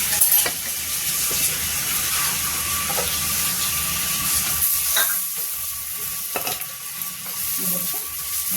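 Okra (bhindi) fries in a little oil in a pan, giving a steady loud sizzle throughout, with occasional scrapes and clicks as it is stirred and turned.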